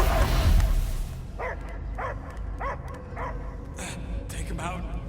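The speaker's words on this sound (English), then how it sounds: "I hear only barking." A dog in the Guardians of the Galaxy video game gives a run of sharp, evenly spaced barks and yips after a loud opening burst, with further quicker barks toward the end, over a low background rumble.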